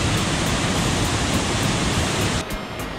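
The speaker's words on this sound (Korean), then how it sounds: "거대한 바위편에서 떨어지는 물줄기를 보는 순간 감탄이 절로 나옵니다" Yeogung waterfall on Juheulsan mountain, water falling from a huge rock face about 340 m up, a loud, dense, unbroken roar of rushing water heard close, with no voices.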